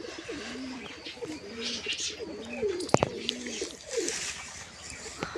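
Wild pigeons coo repeatedly close by, with soft, rounded low calls in an uneven series, one brief sharp click in the middle, and a faint airy background.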